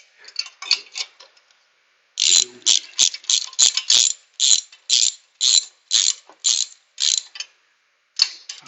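A ratchet wrench snugs cylinder head bolts during assembly of a Honda GX390 engine, giving bursts of crisp, rapid clicking close up, with short pauses between strokes.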